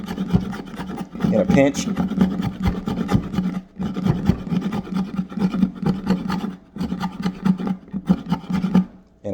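Steady rasping strokes scrape wood into feathers with the serrated edge of a CAT XL 9-in-1 multi-tool, close and rhythmic with brief pauses, and a voice speaks briefly.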